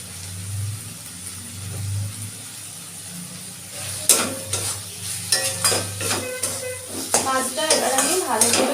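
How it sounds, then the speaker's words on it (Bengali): A spoon or spatula stirs a fish mixture with turmeric in a frying pan, starting as a low hiss and then rising into steady scraping and clattering against the pan over the sizzle. "ভালো করে মিশিয়ে দিচ্ছি"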